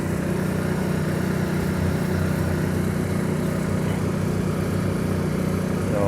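A 4,000 watt quiet gas generator runs nearby with a steady, even engine hum and low drone, unchanging across the whole stretch with no other sounds on top.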